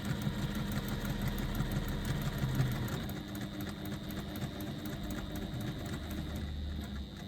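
A sewing machine runs a continuous hum on a shortened straight stitch down one side of a fabric rectangle, droning steadily and fairly loud throughout with no pauses.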